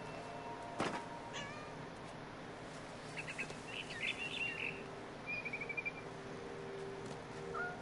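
A cat meows a few times within a video game scene, mixed with bird chirps and tweets over a quiet ambient backdrop.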